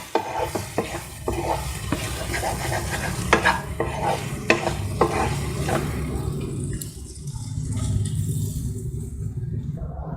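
Prawn fry being stirred and tossed in a pan, with close scraping and clattering strokes over a low sizzle that settles into a steadier hiss toward the end.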